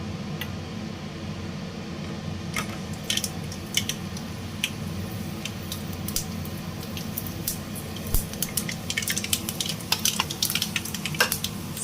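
Mustard seeds and fenugreek crackling in hot oil for a tamarind kuzhambu: a steady low sizzle with scattered sharp pops that grow more frequent toward the end, close and fairly quiet, with no talking.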